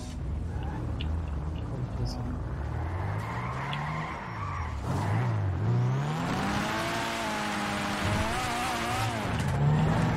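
A car crash in the video game GTA 5, with tires skidding and squealing under a racing engine that revs and drones throughout, while speech runs over the top.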